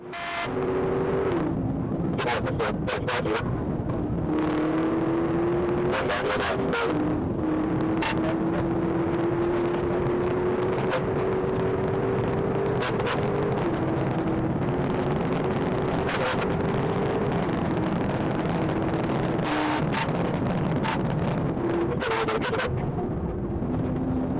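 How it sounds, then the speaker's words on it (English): A car speeds along at high speed in a police pursuit, its engine roaring steadily with rising pitch under heavy wind noise, loud and continuous throughout. "The suspect accelerated at a high rate of speed, turning off his lights as he recklessly passed other vehicles"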